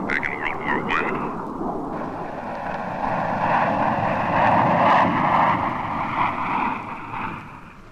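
A biplane engine drones steadily in an old 16mm film soundtrack. The propeller roar is loud and swells in the middle, and a brief voice is heard near the start.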